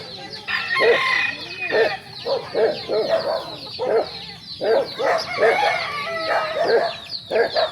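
A Lemon Sweater gamefowl rooster clucks repeatedly in close, rhythmic bursts, with other fowl sounds mixed in, loud and clear throughout.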